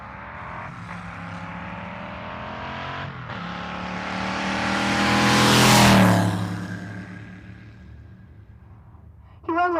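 Drag racing car launching down the strip at Pueblo Motorsports Park, a loud rising engine roar that builds and peaks as it passes, then fades into the distance before another brief burst at the end.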